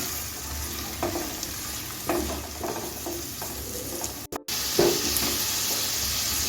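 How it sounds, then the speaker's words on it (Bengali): Onion paste and sliced onions fry together in a pan over low gas while Aar fish kalia is prepared. A continuous hiss and sizzle sits under intermittent spatula stirs, with a momentary dropout before the frying noise returns louder. "আমি গ্যাসটা লোটো মিটিয়ে রেখে দু মিনিটের মতো পেঁয়াজ পেস্টটাকে পেঁয়াজের সঙ্গে ভেজে নিচ্ছি"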